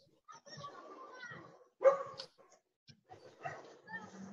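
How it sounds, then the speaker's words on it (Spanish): A small dog barks and yips in a handful of short, fairly faint bursts, mixed with whimpers, while someone talks quietly in the background. "¿Y qué su perrito es?"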